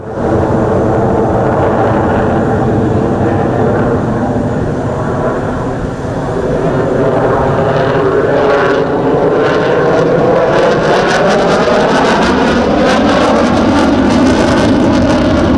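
A Sukhoi T-50 prototype jet flies at the Dubai Airshow, its loud, sustained engine roar steady throughout, with rising and shifting whine tones growing harsher toward the end as it passes.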